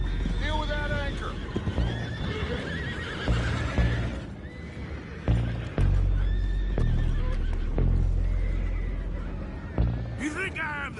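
Several horses whinny and neigh loudly in the video game Red Dead Redemption 2, with hooves clip-clopping in between and muffled voices underneath.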